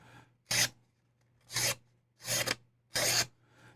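A RovyVon keychain knife slices paper in four short, crisp rasping strokes, evenly spaced and close, with quiet pauses between each cut.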